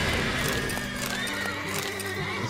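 A horse in The Witcher 3 lets out a whinny, with a wavering tonal neigh over busy game sounds and faint clip-clop of hooves, fairly loud and continuous.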